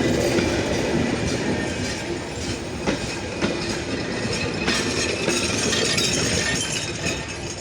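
The Rupsha Express, intercity train 728 hauled by locomotive 6623, pulls out of Syedpur station with a loud, close, continuous rumble. Rhythmic wheel clatter over rail joints runs throughout, with occasional metallic clinks.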